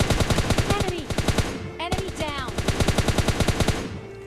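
Rapid automatic gunfire in the mobile battle royale game PUBG Mobile Lite, loud sharp bursts of repeated shots with a brief gap midway, close and dense, no talk.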